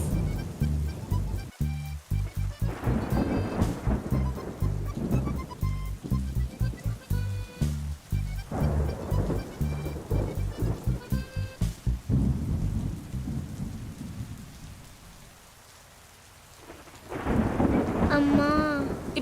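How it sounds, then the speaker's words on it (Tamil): Heavy rain pours at night with rolling thunder, a dense steady downpour punctuated by repeated loud cracks and rumbles, easing briefly before another strong thunderclap swells near the end. "வெள்ள மழை பெய்யுது, குளிருதுடி."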